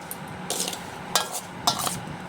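Soft, wet squelching bursts repeat about three times at a steady pace as food with chili and salt is mixed and kneaded by hand in Bengali style, close and quiet with no talk.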